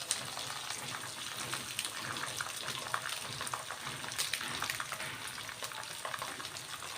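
Ginger pieces, green chillies and dried red chillies hitting hot oil in a tempering for a Telugu kanda bachali dish, a loud steady sizzle and crackle filling the whole stretch, close by with no talking.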